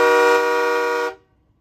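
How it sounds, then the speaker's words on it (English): Train horn fitted to a 2018 Peterbilt 389 truck, one loud sustained blast lasting about a second with a rich, steady chord that cuts off abruptly. "that's your train horn"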